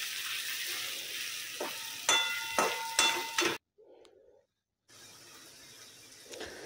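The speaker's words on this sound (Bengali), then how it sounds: "চর্বিগুলো আগে দিয়ে দিলাম, দিয়ে একটু নেড়ে নিচ্ছি পেঁয়াজের সাথে।" Mutton fat fries with onions in a steady sizzle, broken by several sharp clanks of a stirring utensil against the pan. The sound drops out briefly, then the frying returns softer.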